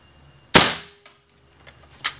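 A single sharp shot from a homemade 6.35 mm PCP air rifle filled to under 200 bar cracks out, followed by a quick fading ring and a couple of faint clicks afterward.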